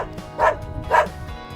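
Dog barking, two short close woofs about half a second apart, alone with nothing else around them.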